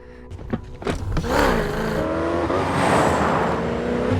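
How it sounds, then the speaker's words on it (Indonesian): A Ford Mustang is driven hard in a film scene, its engine roaring and rising in pitch as it accelerates, loud and close, with a brief tire squeal and no talking. "Dengan sebuah mobil Mustang, ia disuruh untuk bermanuver di sepanjang jalan"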